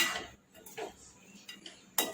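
Brief clinks and scrapes of a spoon against a bowl as sugar is stirred into a potato curry mixture, a few light taps in quick succession.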